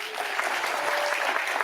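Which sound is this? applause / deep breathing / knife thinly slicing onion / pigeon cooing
applause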